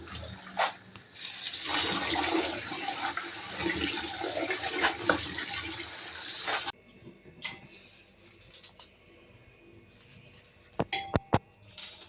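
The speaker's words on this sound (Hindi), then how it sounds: "साग धोते हैं।" Spinach and mustard greens being washed by hand in a tub of water give a sustained splashing, sloshing wash for several seconds, then quieter drips and a few sharp knocks and clatters near the end.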